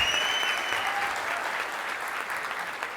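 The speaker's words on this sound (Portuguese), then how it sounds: "Vamos, uma salva de palmas para a Renata" A crowd at the official opening of a city councillor's office applauds for Renata in a sustained wash of clapping that slowly eases in intensity, with a few faint whistles near the start.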